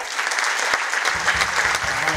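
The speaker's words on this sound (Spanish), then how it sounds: "Así que quiero pedir un fuerte aplauso para el mentor, para Juan Manuel." An audience at a jazz concert in a university auditorium gives a brief burst of strong, thick applause that holds steady throughout.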